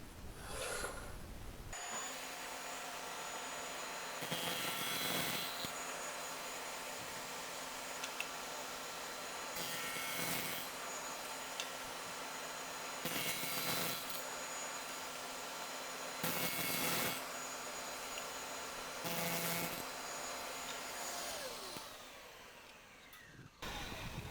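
A stacked dado blade on a table saw cuts a wooden tenon, a steady, fairly quiet whirring spin with several rougher swells of cutting noise as the wood passes through, then a winding down at the end.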